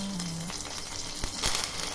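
Sweetened lemon-salted water for dhokla tempering heating in a pan toward a boil, a steady hissing bubble with a couple of sharper pops, close and moderately loud.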